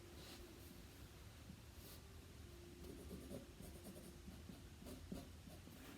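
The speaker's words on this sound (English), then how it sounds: "I find it helpful to use the pencil and just mark where the top and the bottom of the skirt" Pencil marking fabric for a sewn skirt, heard as a close, steady scratchy drawing and rubbing that runs continuously for about six seconds, fairly faint and with no talking.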